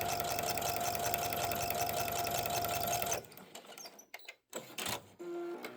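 Sewing machine stitching along a drawn line on the binding of a quilted wall hanging, a loud steady whirring run of about three seconds that stops abruptly, followed by scattered handling clicks and rustles.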